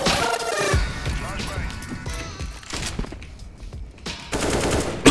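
Rapid video game gunfire from a Glock pistol, loud bursts of shots in quick succession with a crashing impact, while people talk over the action.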